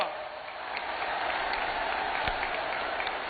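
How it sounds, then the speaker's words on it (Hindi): A crowd at a large public rally in India applauds continuously at moderate distance, a dense wash of clapping with a few sharper claps standing out. "जोरों से ताली बजाइए साथियों।"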